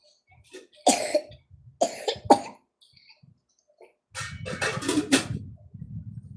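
A few sharp coughs and a throat clear, close by, separated by short pauses, followed by a burst of louder coughing.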